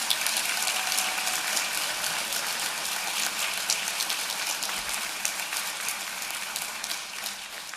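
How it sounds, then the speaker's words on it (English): Applause for graduate degree students at a commencement ceremony, a sustained dense wash of many hands clapping that tapers slightly toward the end. "Let's give them another round of applause,"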